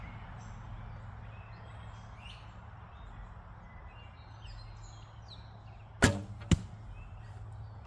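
Two sharp arrow shots from a Sanlida Royal X8 recurve bow land close together near the end, loud and distinct over a steady outdoor hum with faint bird chirps in the background.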